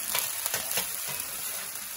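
Vegetables sizzling in a skillet for pepper steak, giving a steady, bright frying hiss with a few light scrapes of stirring early on, close and uninterrupted by speech.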